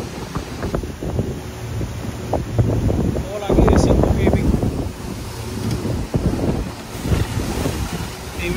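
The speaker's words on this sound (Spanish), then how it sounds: "Inmensa las olas estas." Ocean waves surge and wash around with heavy wind buffeting the microphone, and there is some indistinct talk mixed in.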